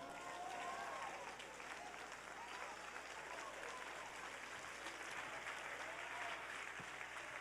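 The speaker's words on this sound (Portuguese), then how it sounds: "Fique em pé e aplauda ao Senhor" A standing church congregation applauds steadily, a wide, even wash of clapping heard at some distance and fairly faint, running the whole length without a break.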